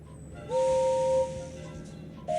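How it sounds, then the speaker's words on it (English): A steam engine whistle for Gordon, the big blue express engine in a Thomas & Friends PC game, sounds as one sustained tone of about a second against a quiet background. "Is that really your whistle, Gordon?"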